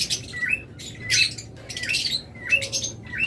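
A pair of pet cage birds calls in short, harsh, squawking bursts, each group of chirps repeated every half second or so, close and loud over quiet background noise.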